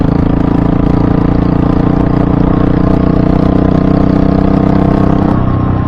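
A stock Honda Hawk 250 motorcycle engine running on regular T4 oil, with a steady, loud, close idle that holds an even rumble throughout and no talk.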